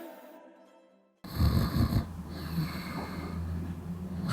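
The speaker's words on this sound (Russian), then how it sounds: "Хрр, храпит негромко папа, хрр, храпит сильнее дед." A person snores loudly after a moment of near silence, a close, rough, rattling inhalation with a snort-like onset that then trails into heavy breathing.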